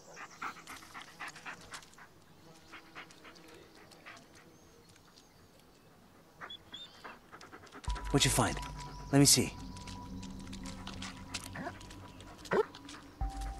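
A dog in the video game Blair Witch, heard panting and sniffing nearby at first, then barking and whimpering more loudly in the second half, with someone talking to it briefly.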